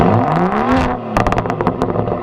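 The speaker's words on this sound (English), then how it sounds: "So I love the new exhaust on my car." A 2013 BMW 335i xDrive with an aftermarket exhaust revs hard, its tone climbing through a sweeping rise, then a burst of sharp, stuttering blips and crackles that continues to the end, loud and close with no talking.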